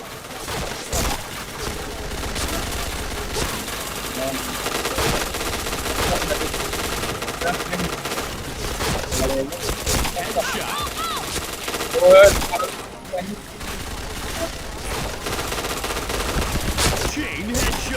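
Rapid automatic gunfire in the online shooter PointBlank, bursts of rattling shots running nearly continuously with a louder spike midway, while a player's voice speaks intermittently over the action.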